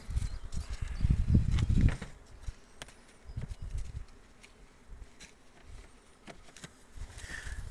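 Honeybees buzzing around close by in the evening while collecting pollen, a steady insect drone with a louder pass early on, over faint outdoor background with birds and no speech.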